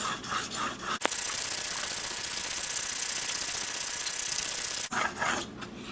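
Steady rasping strokes of a Muzzy trocar broadhead drawn across a 2500 grit sharpening plate, a continuous close scrape lasting several seconds between short bursts of quicker strokes.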